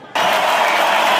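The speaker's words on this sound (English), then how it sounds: "Got some crowd sounds." A crowd cheering and applause sound effect bursts in abruptly after a brief quiet moment and holds at a loud, dense, steady roar of clapping and cheers.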